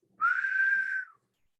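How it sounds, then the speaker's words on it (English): A single short, steady whistled note from a person, close and clear, lasting about a second before trailing off into silence. "It's never good at whistling."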